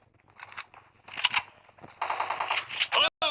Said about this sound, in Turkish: Bana PUBG Ya kör bana niye sıkıyorsun?